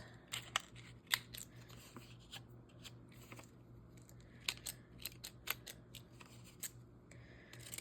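Deckle-edge craft scissors snipping paper close to the edge, a run of sharp, close clicking cuts and crisp rustles in uneven bursts over a steady low background hum.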